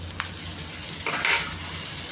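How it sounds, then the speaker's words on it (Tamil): Chopped tomatoes sautéing in a pan for a Tamil tomato kulambu, a steady soft sizzle with a few brief stirring scrapes, close and without voices. "தக்காளி நல்லா வதங்கிட்டுருக்கு"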